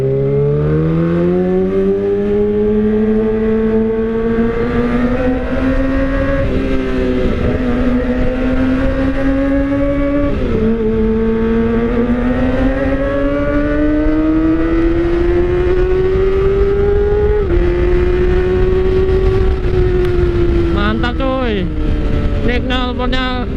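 A Kawasaki ZX25R fitted with an Austin Racing exhaust revs hard and close. Its sharp, rising and falling engine pitch runs through repeated throttle blips, ending in quick stabs of revving.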